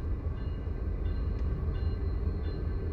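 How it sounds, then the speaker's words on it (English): A train rolls past nearby, a dense low rumble of wheels and rail clatter with a faint periodic high squeal, steady and loud for the whole few seconds. "There's a train coming."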